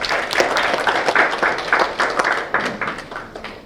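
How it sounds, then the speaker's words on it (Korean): Audience at a Korean policy forum on disabled sports instructors applauds to welcome a speaker, a dense, steady round of clapping filling the room for several seconds. "박수로 맞아주시기 바랍니다."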